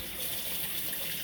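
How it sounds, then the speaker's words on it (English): Tap water running steadily into a sink for handwashing, a brief continuous hiss and gush at low level. "I'm going to wash my hands"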